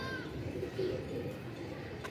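Pigeons out for training fly overhead while soft coos sound faintly at a distance against a steady outdoor hum, with no clear wingbeats standing out.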